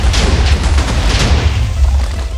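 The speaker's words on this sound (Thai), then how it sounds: "โอ้โหเป็นระเบิดเหรอ" Explosion in the Minecraft video game: a loud, sustained deep rumbling boom with dense low-end roar and crackling bursts lasting throughout, no speech over it.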